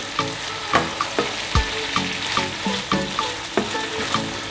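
Spicy garlic chilli prawns sizzle loudly in a pan as they are flipped, a steady hiss broken by a regular series of clacks and scrapes from the turning utensil.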